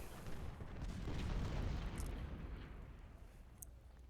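Cannon fire rumbles through a Civil War battle in the strategy game Ultimate General: Civil War, a dense low booming roar that swells and fades over several seconds, with no talking.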